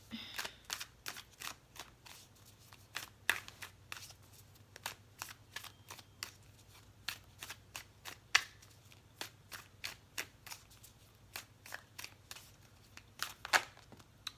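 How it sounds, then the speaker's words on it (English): Tarot cards are shuffled over and over in quick, crisp riffles, each burst a short sharp flutter, close up and fairly quiet, with no talking. "I just shuffle till they jump out."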